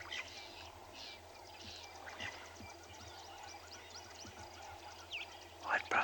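Wild birds calling at a private game reserve in the African bush, blue waxbills among them, with scattered chirps and short tweets over a steady outdoor hiss and a louder burst of calls close by near the end.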